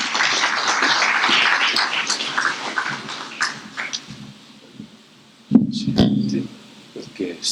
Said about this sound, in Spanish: le damos con un fuerte aplauso al doctor Pere Macías